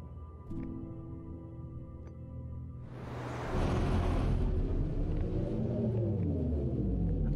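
Storms on Giant's Deep in the video game Outer Wilds swell into a loud, continuous low rumble and roar that builds partway through and stays heavy and steady to the end.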